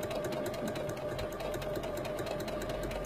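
A sewing machine stitching straight down a seam of fabric under the presser foot, a fast, even mechanical whir with rapid needle ticks, close and steady throughout.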